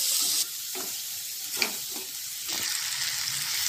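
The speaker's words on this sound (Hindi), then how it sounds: "पत्ता गोभी, शिमला मिर्च, गाजर, ग्रीन बीन्स, और सभी को अच्छे से हमें भून लेना है मिलाते हुए" Cauliflower, cabbage, capsicum, carrot and green beans stir-frying over a medium flame, an even sizzle with a few soft stirring knocks and scrapes, close and unbroken by speech.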